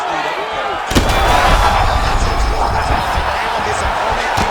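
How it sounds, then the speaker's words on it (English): A punch lands in a UFC 5 simulated fight between Belal Muhammad and Ian Garry: one sharp, heavy impact about a second in, followed by a loud, steady arena crowd roar. "Great punch."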